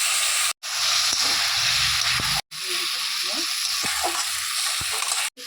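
Loud sizzling and frying in a pan of lentil curry as water goes in, with stirring noises and brief breaks in the hiss; a voice speaks faintly underneath.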